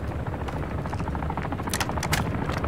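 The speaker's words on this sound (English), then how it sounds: "Can you see the helicopter?" A helicopter in Call of Duty DMZ thumps loudly and steadily throughout with a constant rotor roar close by, while brief crackling bursts rise over it late on.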